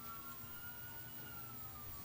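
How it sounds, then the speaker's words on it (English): Faint wailing sirens drift steadily in the distance over a low background rumble of traffic. "Here are sirens."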